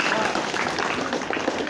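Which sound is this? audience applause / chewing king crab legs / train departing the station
audience applause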